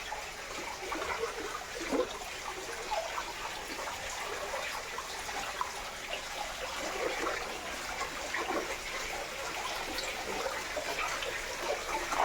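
Continuous gushing water from a stone Nandi-mouth spout at a hidden waterfall in Jogimatti, a steady splashing flow at moderate distance with no talk.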